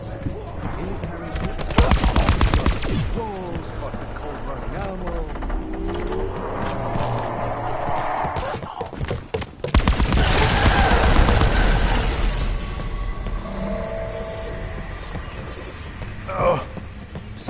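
Gunfire from Call of Duty Black Ops zombies mode, with loud rapid bursts of automatic shots and mechanical clatter, broken by a brief pause, overlaid with game voices and music.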